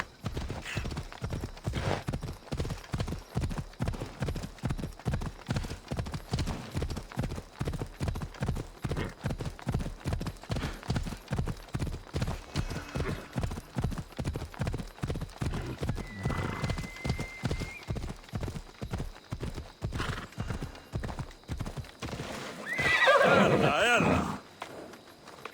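A horse gallops in Assassin's Creed Odyssey with steady, rhythmic hoofbeats throughout, close and clear. A whinny breaks out near the end, and a voice is heard briefly.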